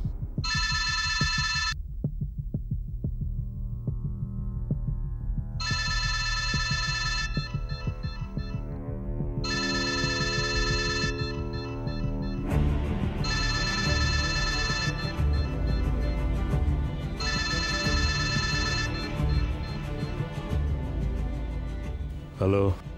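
A telephone ringtone rings in repeated bursts, each pulse followed by a short gap, over a steady bed of dramatic background music throughout a Bengali TV serial scene.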